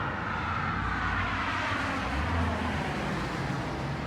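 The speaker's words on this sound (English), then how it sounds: "every car that goes by is very noticeable" A car passing on a nearby road produces a continuous low roar with broad tire and engine rumble that swells slightly midway, loud and close, with no voices.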